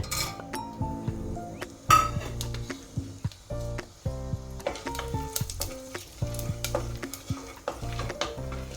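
Whole spices, cloves and star anise among them, frying in hot oil for palak pulao, with a soft sizzle under frequent clinks and scrapes of a metal spoon against the pan.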